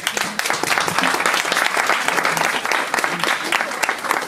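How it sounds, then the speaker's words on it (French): An audience claps steadily and loudly, a thick wash of hands that holds its intensity, with a few voices faintly audible beneath. "vous pouvez déjà les applaudir."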